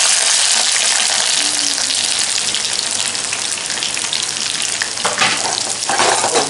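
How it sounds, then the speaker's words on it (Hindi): Okra frying in smoking-hot mustard oil in a kadai over medium flame, a loud dense continuous sizzle like heavy rain, with a couple of brief stirring scrapes near the end. "भिंडी को अच्छे से हम फ्राई कर लेंगे"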